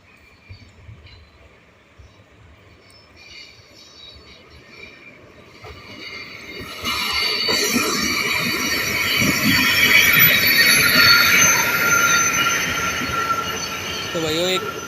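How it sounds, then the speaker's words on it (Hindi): The 5424 Hisar–New Delhi passenger train approaches and passes the Bhiwani bypass junction cabin: a distant rumble grows into a loud, steady roar of rolling wheels with high squeals of steel on rail. "सामने से आ रही है 5424 हिसार न्यू दिल्ली पैसेंजर, जो कि भिवानी जंक्शन को बाईपास कर रही है।"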